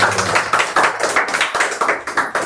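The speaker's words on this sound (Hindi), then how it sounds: "पवित्र आत्मा के लिए जोरदार तालियां बजा सकते हैं।" A church congregation claps loudly in a fast, even rhythm, many hands striking together close by in steady repeated bursts with no voices over them.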